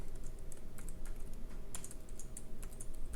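Someone types code into a blank file on a computer keyboard, the keys clicking close and quick in an uneven rhythm of short bursts and brief pauses, with no talking.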